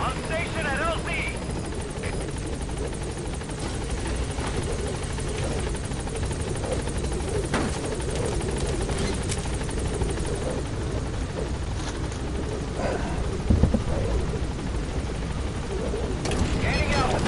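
B-Quad support helicopter in Metal Gear Solid V: The Phantom Pain arriving at a landing zone, a steady loud rotor drone throughout with a brief bump near the end, under intermittent radio-style voice.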